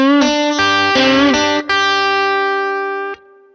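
Bluesy electric guitar lick played with heavy distortion and grit, sustained notes bleeding into one another with a bend and vibrato in the middle, loud and close, ringing out alone before cutting off.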